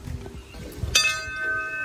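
A temple bell at Garadia Mahadev temple by the Chambal River near Kota is struck once, a bright metallic clang that rings on and slowly fades after a few soft rustles.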